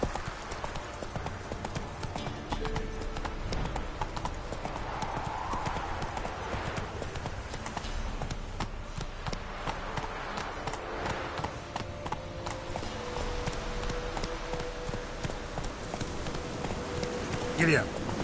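Horse hooves gallop in The Witcher 3 in a fast, steady clip-clop rhythm that runs throughout, with a faint voice underneath.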